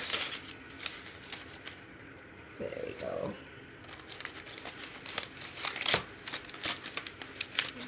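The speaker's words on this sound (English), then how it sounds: "let me just work my way through and get some of that paper out" Packing paper pulled and crumpled out of a cardboard shipping box of orchids, a series of close crinkling and rustling bursts, with a voice speaking briefly.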